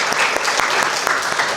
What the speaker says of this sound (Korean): 한번 박수로 감사해.